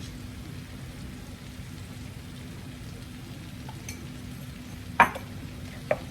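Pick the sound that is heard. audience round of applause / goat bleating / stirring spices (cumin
stirring spices (cumin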